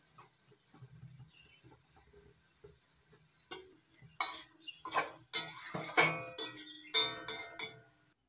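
A metal pan holding an okra and egg dish is lifted off the stove, with sharp clinks, scrapes and clatters of metal utensils against cookware that build after a quiet start, close and fairly loud.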